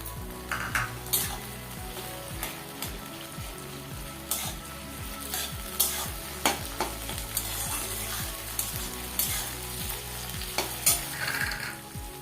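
Tomatoes tipped into a sizzling pan while cooking a Bengali green jackfruit curry, steady loud frying hiss with rhythmic scraping of a spoon against the pan and repeated metallic clinks.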